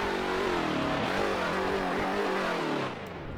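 A car engine in a racing video game revs steadily and loudly with rising and falling pitch sweeps, then drops back slightly near the end, with no voices present.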